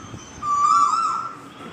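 A single owl call plays on its own, a smooth drawn-out tone that holds and gently wavers for close to a second against a faint background, fairly clear and near.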